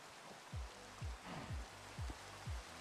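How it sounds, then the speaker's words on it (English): Rain falling in the video game Minecraft, a steady hiss with several regularly spaced low thumps running through it, with no talking. "Don't like it when it rains in Minecraft."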